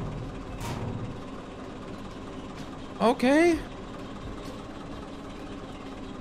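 A truck engine in the Coal Mining Simulator video game runs at a low, steady idle throughout, a tractor-like rumble under a brief spoken word near the middle.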